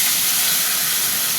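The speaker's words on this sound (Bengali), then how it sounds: "একটু আলুটা ভেজে নেব।" Potatoes fry in hot oil in a pan with a steady, loud, bright sizzle and hiss that carries on without a break.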